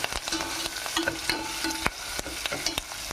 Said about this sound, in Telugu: కొంచెం పసుపు, పచ్చి వాసన పోయేదాకా ఫ్రై చేసుకుందాం.